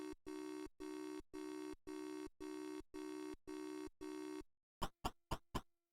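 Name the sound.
telephone noise in video game Maniac Mansion (C64)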